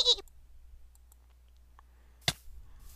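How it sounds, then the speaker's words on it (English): Sharp computer mouse clicks during a Pixelmon game: a quick burst at the start and one crisp, louder click later, otherwise near silence. "I was clicking too fast."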